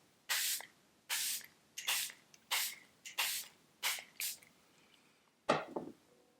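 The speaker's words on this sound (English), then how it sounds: "use my Charlotte Tilbury, the Airbrush Flawless Setting Spray" Quiet bursts of Charlotte Tilbury Airbrush Flawless Setting Spray mist, about eight short hissing puffs at a fairly even rhythm, close by with no talking.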